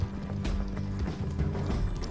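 Horse hooves galloping at a steady, rapid clip-clop rhythm in Red Dead Redemption 2, loud and close with low rumbling throughout and no talking.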